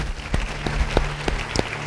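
Church congregation clapping in a reverberant hall, a patchy mix of scattered individual claps over a humming, roomy background.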